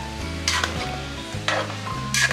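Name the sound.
stirring banana and taro for binignit in pot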